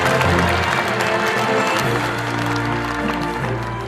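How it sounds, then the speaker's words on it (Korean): Applause from a large crowd at a Korean peace and unification advisory council ceremony, dense and steady for several seconds, with a low hum or music underneath. "다시 한번 박수 부탁드립니다"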